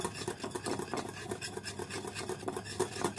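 A spoon scrapes in steady, rhythmic strokes through a boiled mixture for banana chocolate ice cream, close and continuous, with no talking.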